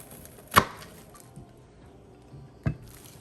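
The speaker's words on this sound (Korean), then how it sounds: "이건 생으로 먹는 거니까 좀 작게 얇게 썰어야 됩니다" A kitchen knife slices a raw red onion thinly on a cutting board for salsa, giving two sharp, close chops about two seconds apart, with quieter board taps between them.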